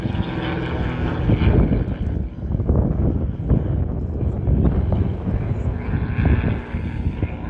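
Propeller-driven aircraft at an air show, its steady broad engine and airscrew drone loud and continuous, with wind buffeting and a commentator's voice heard faintly beneath.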